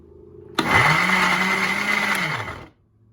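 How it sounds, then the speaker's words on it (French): A blender starts abruptly and runs steadily for about two seconds, crushing blueberries with a loud, even whir, then winds down and stops. "quand le blender commence à faire trop de bruit, commence à être trop bruyant comme ça"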